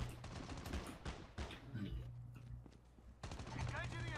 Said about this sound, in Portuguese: Quem tá atirando aí?